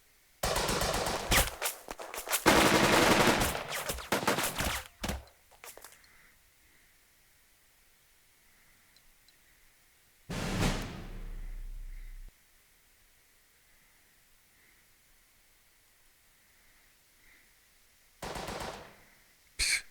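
Rapid machine gun bursts from a unit in the Burden of Command war game, a long loud volley at the start followed by two shorter bursts after quiet stretches.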